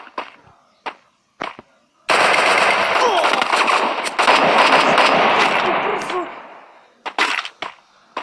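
Rapid automatic rifle fire in the game Free Fire, a long sustained burst of dense gunshots lasting several seconds, with a few short isolated shots before and after.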